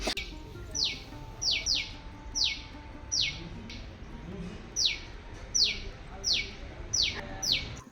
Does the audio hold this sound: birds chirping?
yes